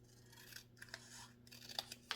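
Scissors trim paper for a craft folio, a handful of short, faint snips and slicing strokes spaced irregularly, heard close in a quiet room.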